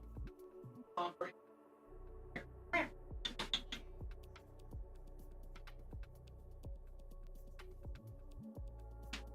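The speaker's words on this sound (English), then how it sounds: "Okay, it was a cat." A house cat meows a few times at close range, with short bursts between quieter stretches over a low steady hum.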